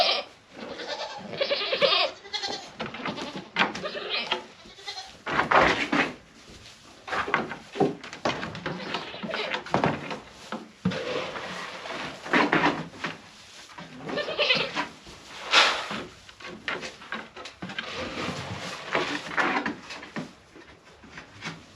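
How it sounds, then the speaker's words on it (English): Goats on a homestead bleating at feeding time, several animals calling repeatedly and overlapping, loud and close, mixed with wooden knocks and clatter of feeding gear. "let's get the goats fed and we'll move on to the chickens after that"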